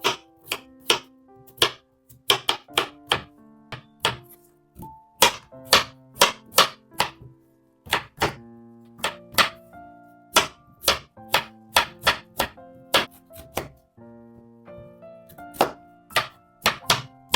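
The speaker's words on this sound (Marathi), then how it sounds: "हे व्हेजिटेबल आपण पूर्ण कट करून घेऊया।" Carrot, beetroot, potato and cauliflower chopped on a board with a knife for pav bhaji, a long run of sharp, close knife thunks in irregular quick bursts with short pauses between them.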